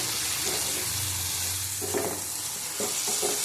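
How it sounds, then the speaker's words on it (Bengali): Potatoes and green banana sauté and sizzle in a pan, a steady frying hiss with soft stirring scrapes and light clinks of a spoon against the pan, close and continuous with no talk. "ভালো করে কষিয়ে নিচ্ছি আমি"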